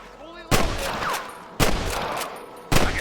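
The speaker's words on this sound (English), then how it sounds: "I can hear more gunshots." Gunfire in the Western video game Red Dead Redemption: three sharp, loud gunshots spaced about a second apart, each followed by a short echoing tail, with faint voices between them.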